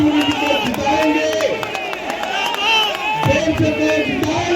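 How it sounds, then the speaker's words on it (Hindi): A large crowd at a political rally in Kalkaji, Delhi, cheering and shouting slogans in unison, loud and close, with many voices rising and falling over a constant roar. "जोर से ताली बजाकर, नारा लगाकर गारंटी दीजिए"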